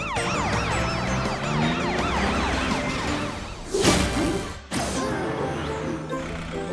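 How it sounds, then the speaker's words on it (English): A video game police truck siren wails, rising and falling in repeated sweeps, loud and close, broken by a sudden crash-like burst before the siren carries on. "Put your siren on, super police truck!"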